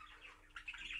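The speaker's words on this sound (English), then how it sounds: "decided to chatter to all the other birds in the shed" A bird chatters inside a shed of show birds, giving faint, quick chirps and tweets that grow busier toward the end, with no one talking.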